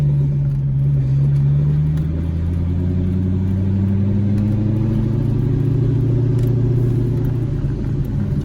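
A straight-piped Corvette Z06 rumbles deep and loud while pulling away on a hill, its engine note rising steadily as it accelerates through the drive, heard close and with no talking.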